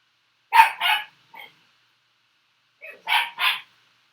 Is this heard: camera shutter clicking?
no